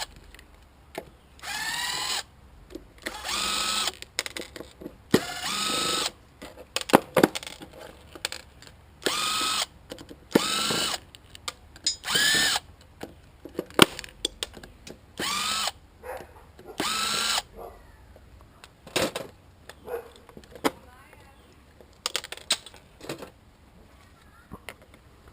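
Power drill backing screws out of copper parts as they are taken apart, repeated short whirring bursts with pauses and clicks between, close and loud, no talking.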